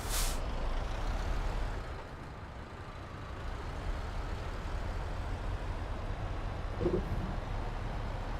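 An air-braked truck in a video game opens with a sharp hiss of air brakes, then a low steady engine rumble runs alone at moderate volume, with a brief faint tone near the end.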